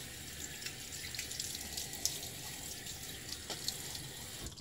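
Hard tap water runs steadily from a faucet into a sink as a face is wetted before a wet shave, a constant close hiss with faint splashes and no voices.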